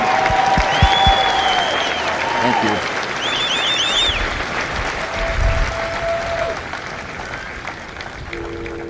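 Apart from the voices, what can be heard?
audience applause for drill instructors and families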